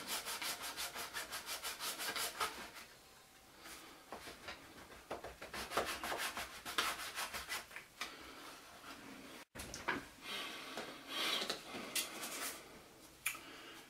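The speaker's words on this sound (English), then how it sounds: "what I'm using is my razor saw here to try to cut this end off" A small razor saw cuts a model panel in quick, rhythmic back-and-forth strokes, close and fairly quiet, pausing briefly between bursts of cutting.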